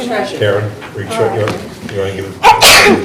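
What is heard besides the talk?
sneeze during a board meeting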